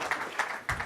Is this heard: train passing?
no